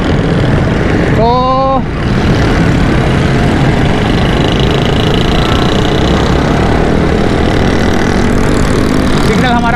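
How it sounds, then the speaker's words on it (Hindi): Motorcycles and other traffic engines rumble and idle together at a busy signal in Karachi, a steady loud drone with a brief horn-like tone near the start and people talking over it. "सिग्नल खुलते साथ ही सारा जो है ना मोटरसाइकिलों का भंगार सबसे आगे होता है।"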